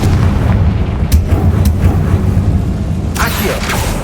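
A Confringo spell explodes in the video game Hogwarts Legacy, a loud, dense rumbling boom that rolls on for several seconds with a few sharper cracks and a brighter burst near the end.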